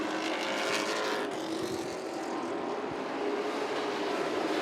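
Street stock race cars roar around an oval track at Southern National in a continuous, loud engine drone, several cars blending together with a slight swell as they pass, no voices.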